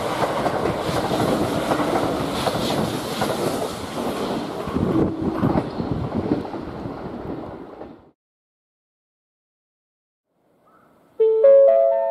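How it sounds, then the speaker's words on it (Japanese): A Kintetsu limited express train rumbles loudly through Murōguchi-Ōno Station on the Osaka Line, rolling, rattling wheels for several seconds, then cuts off to silence before a short tonal chime sounds. "まもなく1番線を電車が通過いたします。"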